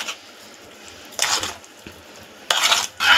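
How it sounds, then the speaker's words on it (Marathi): A fasting koshimbir salad being stirred in a bowl, heard as a few separate bursts of scraping and mixing, close up, with quiet pauses in between. "आता आपण हे व्यवस्थित एकजीव करून घेऊया"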